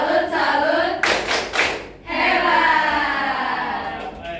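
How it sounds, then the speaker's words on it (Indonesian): A class claps out the 'tepuk salut' chant to close a lesson, with sharp hand-clap bursts around the middle of the clip between stretches of chanting voices. "Untuk mengakhiri kelas kita tepuk salut terlebih dahulu ya."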